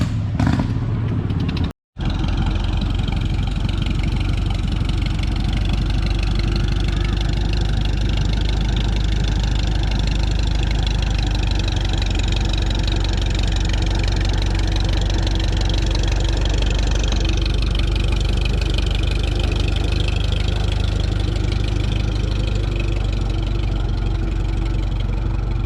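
A Farmall tractor engine runs steadily while being driven, with a low rumbling drone and some mechanical clatter, holding a constant pace nearby after a brief interruption near the start.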